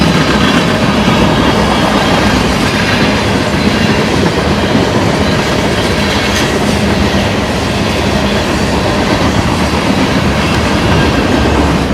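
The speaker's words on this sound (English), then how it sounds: "4-engine lash up, auto rack turning into a manifest." A freight train led by a four-locomotive lash-up rolls past near Friona, Texas, with auto racks and manifest cars: a loud, steady, close rumble of wheels and cars that fills the whole stretch without pause.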